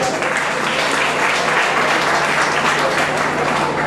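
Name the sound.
congregation applauding the couple at a wedding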